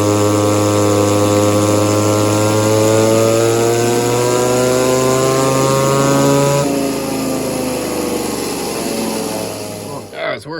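An Echo 2511 clone chainsaw with a modified exhaust and advanced timing screams through a dyno pull, its engine note climbing steadily to a peak before dropping off and sputtering down near the end.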